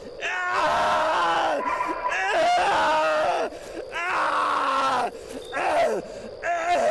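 A person screams repeatedly in long, loud, strained bursts with short breaks between them, close and harsh, in a horror setting at a state park.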